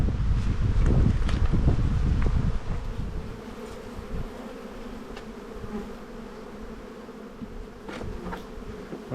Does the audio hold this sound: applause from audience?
no